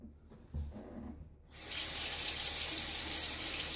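Tap water runs steadily and fairly close as a safety razor is rinsed under it, a broad hiss starting after a brief quieter moment and continuing evenly to the end.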